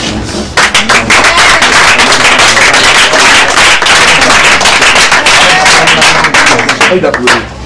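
A church congregation praising God breaks into loud, sustained clapping and cheering with dense rapid hand claps and shouting voices filling the space for several seconds.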